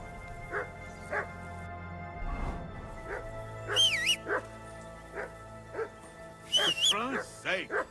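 A dog in Kingdom Come Deliverance 2 barks in short repeated woofs spaced about a second apart, mixed with high whimpers and yips, close and moderately loud, over a faint game music bed, with a brief game voice in the middle.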